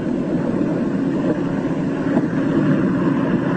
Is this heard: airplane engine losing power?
yes